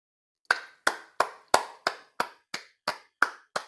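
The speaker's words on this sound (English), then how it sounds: "it deserves a round of applause" Roughly nine sharp, evenly spaced claps ring out one at a time, crisp and isolated against silence, like a single person or small group clapping slowly in a deliberate rhythm.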